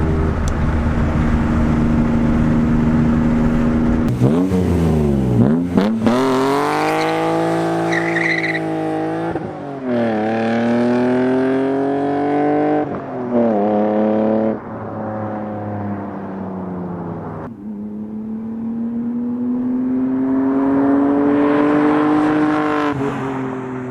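A BMW E36 M3 with a cat-back exhaust drives on the road without upshifting. Its engine drones loud and steady, swelling and easing with the throttle, and there are brief tire squeals. No one speaks.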